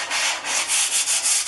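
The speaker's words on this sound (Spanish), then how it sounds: "voy a empezar a lijar en forma circular toda la superficie del cuadro" Sandpaper rubbing in circles over a painted wooden picture panel, a loud close rasping hiss that swells and fades in a steady rhythmic pattern.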